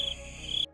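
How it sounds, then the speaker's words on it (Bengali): A brief, steady high-pitched cricket trill at night in a village, fairly faint, continuing evenly before cutting off. "গ্রামের বাড়ি ঝিঝি পোকার ডাক"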